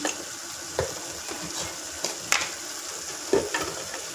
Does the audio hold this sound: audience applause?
no